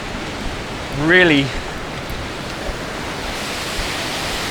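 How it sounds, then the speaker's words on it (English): Ocean surf breaking on a beach on the ninety mile coast, a steady broad wash of wave noise with one brief spoken word over it. "you sort of see where the waves crash"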